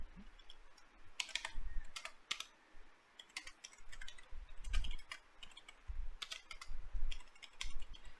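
Computer keyboard typing in bursts of quick clicks with short pauses, close and moderately loud, no voices.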